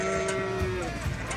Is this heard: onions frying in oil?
no